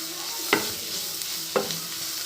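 Onions sautéing in a pan for an onion samosa filling give a steady bright sizzle, with two distinct stirring scrapes about a second apart.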